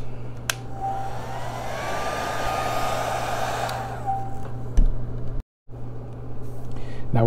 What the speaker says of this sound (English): Dry with a hairdryer.